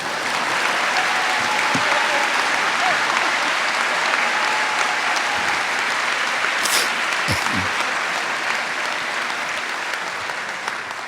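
An audience at a university naming ceremony applauds steadily and loudly, a dense wash of clapping that fills the room throughout with no talk over it.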